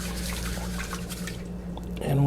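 Rice rinsed by hand in water to remove starch, soft dripping and sloshing of water close by, with a person talking over it.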